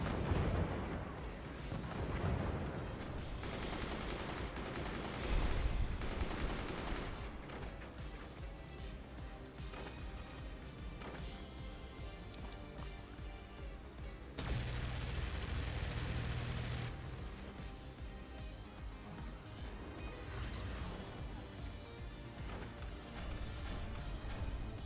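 Heavy barrage of missile fire and explosions in the artillery strategy game Forts, a dense continuous rumble of launches and blasts that surges loudly in waves, with no voices over it.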